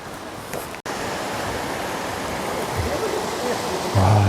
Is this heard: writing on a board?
no